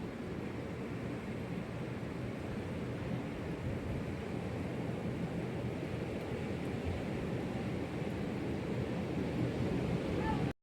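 Sea waves wash against a rocky shore at Nagoa Beach in Diu, a steady, broad roar of surf that fills the whole stretch without pause, with no voices.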